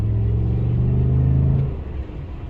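A 2013 Ford F150 truck with a 5.0L engine, running smoothly after an oxygen sensor stuck-rich fault was repaired, produces a loud, steady idling rumble up close that eases off and softens near the end.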